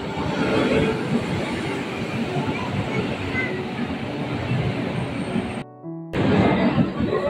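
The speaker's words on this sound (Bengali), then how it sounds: "দেখো বন্ধুরা, আমাদের এই ট্রেনে যাবো, ওই ট্রেন চলে এসেছে।" A train pulls into a station, a steady broad rumble of wheels and carriages filling the scene, briefly cutting out near the end before resuming.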